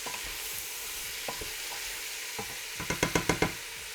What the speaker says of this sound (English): And now we're gonna put our veggies in there. I'm just gonna mix it through a little bit.